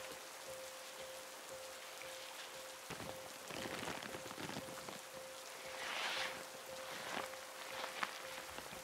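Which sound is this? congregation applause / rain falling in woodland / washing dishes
rain falling in woodland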